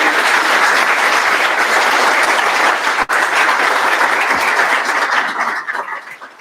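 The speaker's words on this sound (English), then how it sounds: "A round of applause." Loud, dense applause from a tech conference audience at DevTools Porto fills the room steadily for about six seconds before tapering off at the end, with no talking over it.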